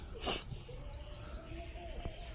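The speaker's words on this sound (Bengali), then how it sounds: "এই দেখো এটা গিরিবাজ পায়রা আছে, গিরিবাজ লাইনের জিরে পায়রা।" A Giribaz pigeon of the jire line calls in short, repeated chirping notes close by, rising over a faint outdoor background with a brief louder burst near the start.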